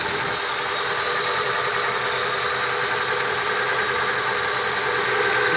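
The engine of a 1995 Honda Civic project car idles steadily, a constant close hum with a dense, hissy texture and no knocking. No one talks over it.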